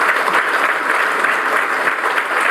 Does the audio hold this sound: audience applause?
yes